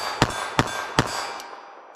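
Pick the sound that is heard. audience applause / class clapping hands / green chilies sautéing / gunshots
gunshots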